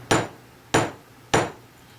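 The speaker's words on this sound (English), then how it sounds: "I'm just going to lay the pendant down on the bench block, and I'm going to hammer" Three sharp metallic hammer strikes on a metal pendant resting on a jeweler's bench block, evenly spaced and close, each ringing briefly before fading.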